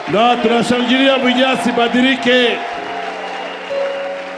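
A church congregation applauds and cheers in acclamation, a loud burst of clapping and voices with sung or shouted tones that fades after about two and a half seconds into quieter crowd murmur.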